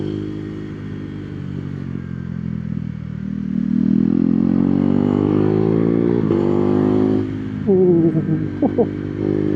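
A KTM Duke 390 v2 fitted with a Termignoni exhaust and quickshifter rides close by, its single-cylinder engine droning and rising as it accelerates, then dropping into quick blips on shifts.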